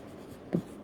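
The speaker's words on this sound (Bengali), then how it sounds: "আমি একটু ডিটেলস লিখে দেখাচ্ছি" Chalk or marker writing on a board during a math lesson, a few faint scratchy strokes close by with two brief louder taps at the end.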